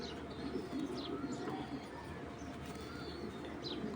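Pigeons coo in a low, continuous murmur at a loft or bird market, with soft chirps and rustling over a steady background hum.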